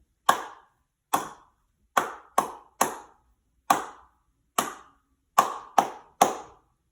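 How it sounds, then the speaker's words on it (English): Ten sharp hand claps ring out alone in a mixed pattern, some spaced evenly on the beat and others paired in quicker eighth-note bursts, close and crisp with clean silence between. "Did you notice the different rhythms in my claps? One is a quarter note, and one is an eighth note."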